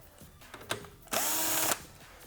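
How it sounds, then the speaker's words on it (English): Power drill spinning an 8mm socket to remove fasteners from a 2019 Kawasaki Z400 tail section: a few soft clicks and handling taps, then one loud, steady half-second burst of whirring motor, close by, with no talk. "I will grab an 8mm socket and I will remove these four fasteners here."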